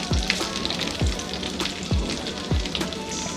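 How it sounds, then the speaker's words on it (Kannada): Small-cut okra, washed and wiped dry, about half a kilo, frying in oil over a low flame: a steady close sizzle with a few soft low thumps recurring every half second or so. "ಈಗ ಎಣ್ಣೆಗೆ ನೋಡಿ ವಾಶ್ ಮಾಡಿ ಒರೆಸಿ ಸಣ್ಣದಾಗಿ ಕಟ್ ಮಾಡಿ ಇಟ್ಕೊಂಡಿರೋಂಥ ಬೆಂಡೆಕಾಯಿನ ಹಾಕೋತಾ ಇದ್ದೀನಿ."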